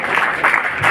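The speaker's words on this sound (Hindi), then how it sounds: "एक बार जोरदार तालियां बजाकर उनका इस्तकबाल करिए।" A dense wash of clapping from a crowd welcoming a speaker at a hospital event, steady and fairly loud throughout, with slight swells in intensity.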